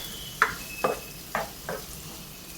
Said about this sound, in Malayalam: നമുക്കിതെല്ലാം കൂടെ ഒന്ന് വഴറ്റി എടുത്തുകൊണ്ട് വരാം